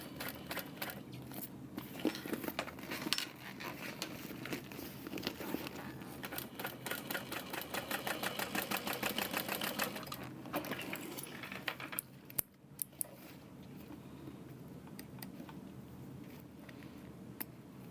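A sewing machine stitches a Taylor Tote bag in bursts of rapid mechanical ticking, with a long steady run in the middle and quieter handling clatter around it, close and fairly soft.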